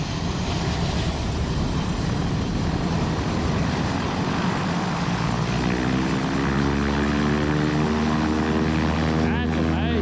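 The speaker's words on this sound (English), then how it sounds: "that like a turboprop? I assume that is." Turboprop airplane passing low overhead, a loud propeller drone with rising and falling harmonic tones as it approaches and recedes, and people talking underneath.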